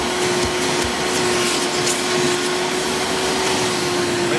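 A Hoover Power Drive Supreme U6329-930 upright vacuum with an upgraded fan impeller runs steadily and loudly nearby, a constant motor whine and rushing airflow with no break.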